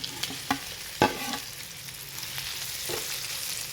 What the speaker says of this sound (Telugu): ఇప్పుడు ఆయిల్ హీట్ అయింది కదండి ఇప్పుడు ఇందులోకి వేస్తున్నాను కాకరకాయ ముక్కల్ని